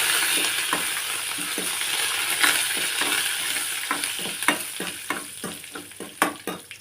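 Curry leaves stirred in a hot pan of oil while making sambar, with steady sizzling and frying hiss throughout and repeated scraping stir strokes growing sharper toward the end; no voices.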